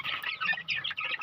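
Gamefowl breeding hens give a short run of soft, close clucks and chirpy calls in quick bursts.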